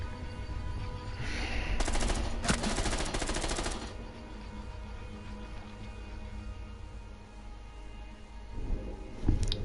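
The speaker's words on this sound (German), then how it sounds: "Schuss." Rapid automatic gunfire in the video game Rainbow Six erupts in a couple of sharp bursts early on, then gives way to quieter background noise with a single loud crack near the end.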